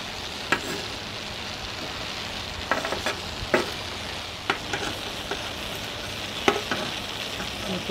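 Tomatillos roasting on a hot surface make a steady close sizzle and crackle, with occasional small knocks and taps scattered through the sound.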